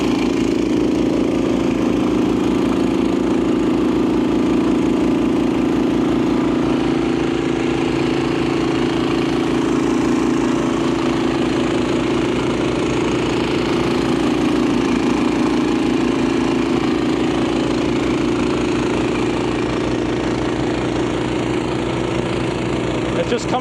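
A Honda HSS1332 snowblower engine runs steadily and loudly close by, with a continuous mid-pitched drone and an even putter the whole time. There is no change in speed.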